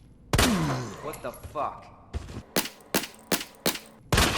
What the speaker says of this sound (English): so it took 12 shots total to defeat a zombie with the Matilda